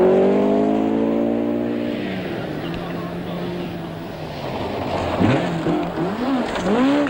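Rally cars in the 1978 British Open Rally Championship, including a Triumph TR7 and a Ford Escort, engine notes rising and falling through gear changes, revving hard near the end, heard close and loud.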